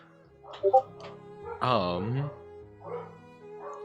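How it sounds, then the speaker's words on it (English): A few dogs bark and yip at a distance, short scattered barks with a longer howling note in the middle, fairly faint against a quiet background. "I have barking dogs"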